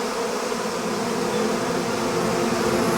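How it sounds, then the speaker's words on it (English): A honeybee swarm makes a dense, continuous buzz that is loud and steady throughout, like many wings beating together close by. "That is a honeybee swarm."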